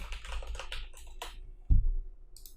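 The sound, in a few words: typing a folder name on a computer keyboard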